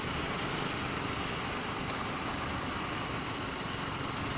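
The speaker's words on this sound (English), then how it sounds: "Out and about on the BSA Goldstar 650." A BSA Goldstar 650 motorcycle engine runs in a steady, continuous drone with a low, even throb and no change in pace or level throughout.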